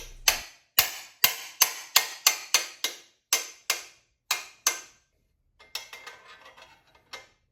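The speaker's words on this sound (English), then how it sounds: "Light percussion is used to break it loose." A series of about a dozen sharp metallic taps, quick and evenly spaced, work loose a cap on the O2 sensor bung of a Shovelhead engine, followed by softer scraping and clinks.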